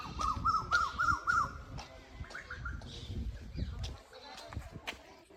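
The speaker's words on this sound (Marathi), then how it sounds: "कोकिळेचा आवाज ऐका." A koel calls outdoors along a rural canal path in Mandla district, a quick run of several clear repeated notes followed by a fainter echoing phrase, with footsteps and soft voices around it.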